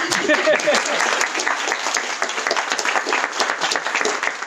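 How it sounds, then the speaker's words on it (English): An audience at a World Poetry Day evening in a Nottingham Trent University library breaks into warm, sustained applause, a dense crackle of many hands filling the room while voices chatter underneath. "We'll clap."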